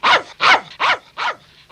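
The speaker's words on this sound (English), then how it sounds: "What's that dog barking at?" Four loud, evenly spaced barks from a nearby dog, each a sharp rising-and-falling yelp in a steady rhythm with brief silences between.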